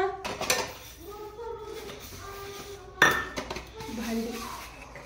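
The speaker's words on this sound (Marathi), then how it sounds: "भांडी." Dishes, pots and cutlery clink and clatter in a home kitchen during cooking, with sharp metallic knocks and a few louder bangs, voices talking in the background.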